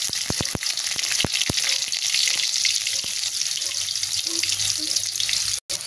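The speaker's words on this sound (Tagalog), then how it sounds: "Iprito muna natin ang ating tokwa." Tofu frying in hot oil in a home kitchen, a steady broadband sizzle filling the whole stretch, with a few sharp crackles early on and a brief dropout near the end.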